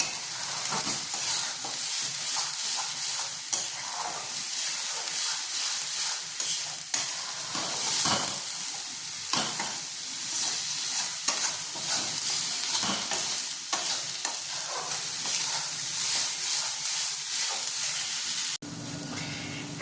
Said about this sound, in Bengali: কষাতে হবে, যতক্ষণ না এটা একদম কড়াই থেকে ছেড়ে আসছে।